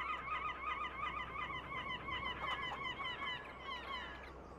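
Chickens in the farming game Farming Simulator 22 cluck and squawk in a busy, overlapping flock, the calls steady and moderately close over a low background hum.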